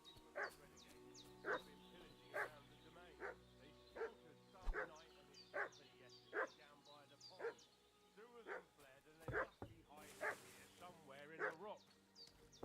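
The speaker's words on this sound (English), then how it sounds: "What's that dog making such a fuss about?" A dog in the video game Kingdom Come Deliverance 2 barking repeatedly in a steady rhythm of sharp woofs at moderate distance, with occasional yips and whimpers, while voices talk alongside.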